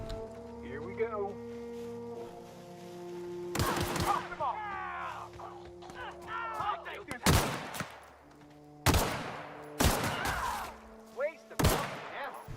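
Sharp gunfire from The Outer Worlds comes in several loud, close bursts of rapid shots separated by pauses, with a steady electronic hum and tones underneath and people talking between the volleys.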